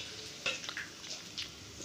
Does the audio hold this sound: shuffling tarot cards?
no